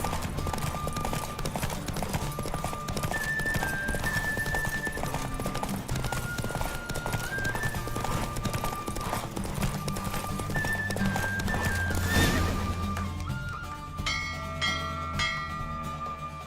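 In The Witcher 3 video game, hooves clatter in a rapid galloping rhythm under a constant rumble during a horse race, then a horse whinnies sharply as the pounding gives way to quieter tones.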